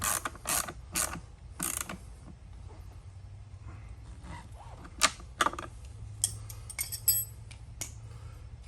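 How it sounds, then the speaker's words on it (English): Small metallic clicks and ratcheting taps come from an Allen key tightening the anti-tip wheel bracket on a carry-on suitcase, irregular and close, with quiet pauses between bursts and no speech. "Kind of hard to see down there, so you kind of have to feel for it to be tightened."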